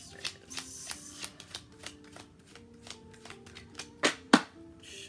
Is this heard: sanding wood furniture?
no